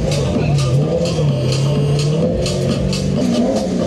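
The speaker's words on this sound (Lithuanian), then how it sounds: "O čia matom Vega Bondo lietuvišką superautomobilį su Mustango varikliu" Vega Bond Lithuanian supercar powered by a Mustang Coyote 5-litre engine rumbles loudly nearby at a seaside festival, holding a steady low growl with slight rises in revs throughout.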